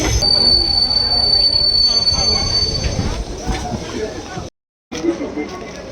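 A train arrives at Dimapur station, its wheels squealing loudly against the rails with a sustained high screech that fades as it slows, amid rumbling carriage noise and a brief cutout near the end.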